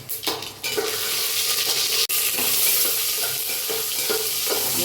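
Urad dal fries in a hot pan with a loud continuous sizzle, interrupted by occasional stirring scrapes and one sharp utensil knock.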